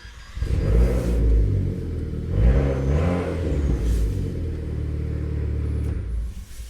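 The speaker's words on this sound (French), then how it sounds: "le véhicule peut à nouveau redémarrer" A car engine cranks and restarts after a remote GPS-tracker engine cut-off is disabled, then idles and revs in a steady mid-pitched rumble, close and loud, settling down as the clip ends.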